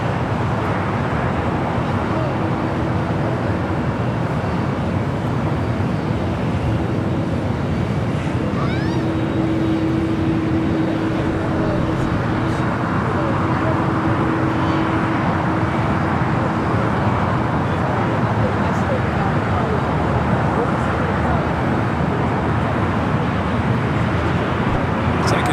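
An Airbus A321neo arriving from Phoenix at LAX makes a distant, steady jet rumble with a faint whining tone partway through, while a commentator speaks at times over the airport noise.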